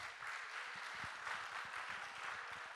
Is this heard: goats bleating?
no